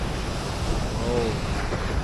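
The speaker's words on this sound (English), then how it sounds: "Hear the water, man, hear the wave" Surf breaking on the shore in Portland, Jamaica, a steady loud roar of waves mixed with heavy wind buffeting the microphone.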